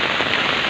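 Heavy rain pours during Typhoon Neneng in Cabugao, Ilocos Sur, a dense, steady roar of drops hammering surfaces near a national highway, loud and continuous with no speech.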